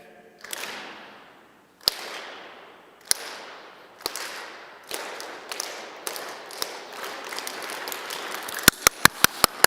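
Sharp single hand claps ring out one after another in a reverberant hall at a middle school confirmation gathering, spaced about a second apart, then quicken into a fast run of crisp claps at the end.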